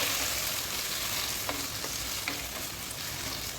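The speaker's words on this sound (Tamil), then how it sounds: "அடுத்த இந்த இஞ்சி பூண்டு போட்டு வதக்கிக்கலாம் இது கூடவே இந்த தக்காளி போட்டு வதக்கிக்கலாம்" Ginger, garlic and tomato sauté steadily in a pan for a brinjal pickle, a continuous close sizzle with a few soft stirring scrapes and no talking.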